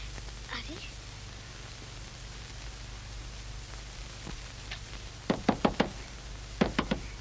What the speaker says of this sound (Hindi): लीलो, दरवाजा खोल